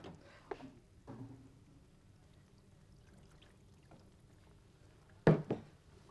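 Water pours into a pot of soaking lentils being cooked with milk in a kitchen, a brief splashing pour near the end after quiet handling sounds.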